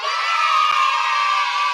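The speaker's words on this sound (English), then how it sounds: "round of applause to this dude" A crowd cheering and whooping in a dense, loud, continuous roar of voices that holds evenly for the whole stretch, with no single speaker standing out.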